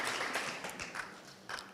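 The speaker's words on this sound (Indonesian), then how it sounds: "Berikan tepuk tangan untuk Tuhan Yesus" A church congregation claps during a Sunday morning service at MDC Cirebon, a faint, scattered patter of hands with a few louder bursts, sounding distant and thin.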